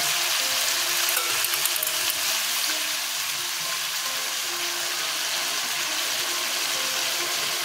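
Spice paste of turmeric, chilli, cumin and coriander powder with whisked yogurt and salt frying in a pan, a continuous soft sizzle with occasional faint stirring scrapes, no talking.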